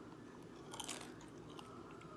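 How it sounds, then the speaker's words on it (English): Kimchi dumplings are bitten and chewed up close, with a faint, soft crunch and quiet wet mastication against low background hiss. "These are actually kimchi dumplings."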